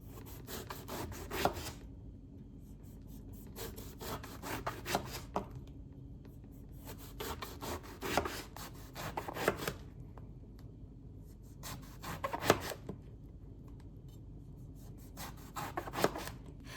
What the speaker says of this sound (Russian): Нарезаю его тонкими кружочками, примерно такой толщины.